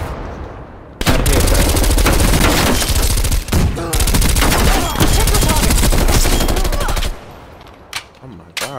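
MP5 submachine gun firing in Call of Duty: Black Ops Cold War, long loud bursts of rapid automatic gunfire with short gaps, then scattered single shots near the end.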